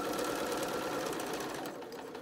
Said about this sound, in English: And we're just going to start sewing.